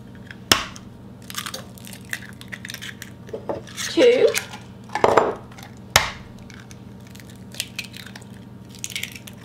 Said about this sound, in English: I'm just gonna crack my eggs 1 at a time, put them in the bowl with my sugar.